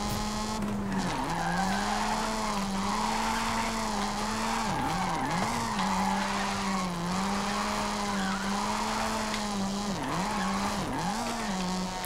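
Mazda RX-7 drifting in the Forza Horizon 5 racing game: a continuous loud tire squeal riding over a steady engine drone, the pitch wavering and briefly dipping as the slide shifts, with no break throughout.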